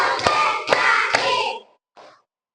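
Children clapping hands in unison in a classroom focus-clapping routine, a few crisp sharp claps within a noisy burst of voices, followed by a brief softer sound and then silence.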